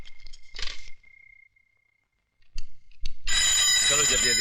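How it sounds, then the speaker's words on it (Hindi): A household telephone rings in short bursts separated by a pause, then loud overlapping noise and voices take over near the end. "पिताजी जरा फोन उठाइए।"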